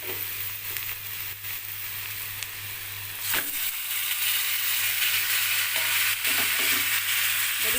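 Chicken pieces fry in oil and are turned over and over in a pan, giving a constant close sizzle that grows louder midway, with scraping stir strokes and a low steady hum underneath.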